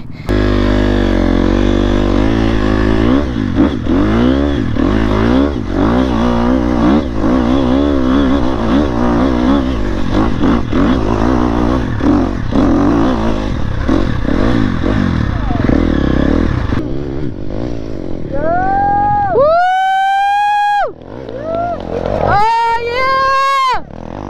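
Loud off-road motorcycle engines roar and rev up close, and near the end a KTM dirt bike passes with rising and falling engine pitch and some clatter alongside.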